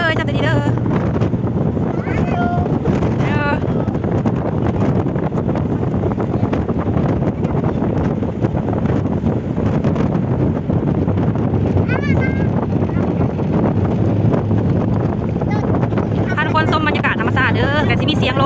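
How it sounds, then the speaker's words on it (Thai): Wind buffets the microphone in a continuous loud roar, mixed with the rumble of passing vehicles outside Wat Phra That Phon during a Buddhist Lent merit-making day, while people talk throughout. "แต่สิมีเสียงลมเสียงรถ"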